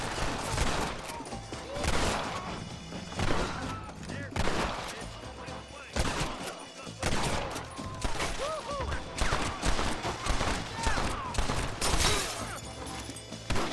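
Dense, continuous gunfire in the Western video game Red Dead Redemption, with repeated rifle and pistol shots cracking throughout an intense shootout, loud and close, with no pauses.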